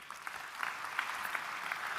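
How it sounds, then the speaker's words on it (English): A brief round of audience applause for Deutsche Telekom at a conference session, a dense, fairly distant patter of many hands clapping at once. "Quick round of applause for Deutsche Telekom"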